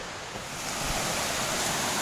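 A mountain creek tumbling over cascades beside the Deep Gap Branch Trail, heard as a steady, close, full rushing of water with no voices.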